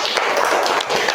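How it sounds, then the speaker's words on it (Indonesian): A classroom of pupils clapping their hands together in a dense, continuous patter of overlapping claps for about a second, fairly loud and close, with no speech over it. "Tepuk tangan dulu dong kalau ada jawaban."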